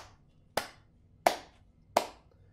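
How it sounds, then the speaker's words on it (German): Slow, deliberate hand claps, three crisp separate slaps spaced evenly about two-thirds of a second apart, close and clear over a quiet background during a gaming session. "Applaus."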